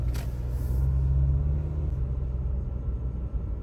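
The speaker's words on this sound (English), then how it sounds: "The engine is a little bit noisy." A used car's noisy engine runs while driving at low speed, a loud low rumble with a throbbing drone that eases off partway through, plus a brief hiss at the very start.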